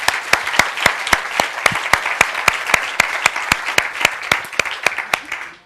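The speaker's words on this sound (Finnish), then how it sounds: "Annetaanko näille arvon rouville aplodit?" An audience at a Finnish customer-experience conference hall claps in a strikingly regular, rhythmic unison beat, loud and close, then trails off at the end.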